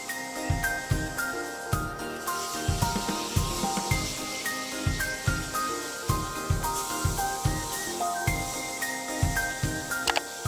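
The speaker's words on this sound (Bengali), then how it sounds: "এরপরে পেটির মাছগুলো ভাজবো।" Rohu fish belly pieces hiss and sizzle steadily in hot oil, a continuous bright frying noise with regular soft taps and clinks of a utensil and background music-like tones, no speech.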